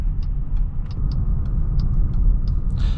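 A 2026 Jeep Grand Cherokee L Summit merges onto a highway. The cabin carries a steady low road-and-engine rumble, with faint, evenly spaced light ticks above it and no talking.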